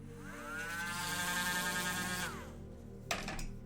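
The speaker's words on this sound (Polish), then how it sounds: "wiertarka brzmi tak" A Dremel rotary tool in the space game Breathedge whines at a high pitch that rises and holds for about two seconds, then winds down, followed by a short sharp knock.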